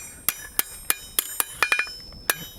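Sharp ringing hammer blows on metal, spaced in a steady rhythm then a quick flurry, each strike clanging brightly with a short metallic decay, as the edges of a forged sticking tommy handle are hammered into shape.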